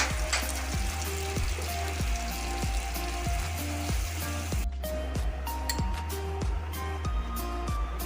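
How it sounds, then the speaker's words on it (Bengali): Ground mustard paste hits hot oil tempering for a chela fish curry with mustard and poppy seed, giving a steady close sizzle with light stirring under continuous background music. "এবার আমি সর্ষেটা বেটে রেখেছিলাম সেটা ফোড়নে দিয়ে দিচ্ছি"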